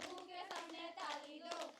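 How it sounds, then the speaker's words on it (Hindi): A group of children clap their hands in front of their faces, a quick series of close, crisp claps in uneven rhythm with soft young voices mixed in. "मुंह के सामने ताली दो"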